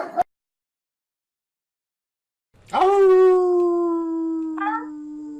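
After a brief sound and a silent pause, a dog lets out a long, steady howl nearby, holding its pitch with a slight waver near the end.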